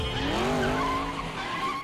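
A small race kart from the animated film Wreck-It Ralph spinning out, a sustained rising and falling tire squeal with engine whine, fairly loud and alone before fading at the end.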